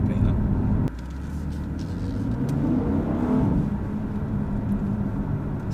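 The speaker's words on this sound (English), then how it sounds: "it's hard to tell it's turbocharged while just driving around at the moment." A turbocharged BMW M3 Competition Pack F80 drives along smoothly, its steady engine and road hum filling the cabin at moderate level, with a brief drop in loudness early on and people talking over it.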